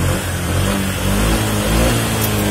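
A loud motorcycle engine revs steadily and close by, its low growl rising and falling slightly without a break.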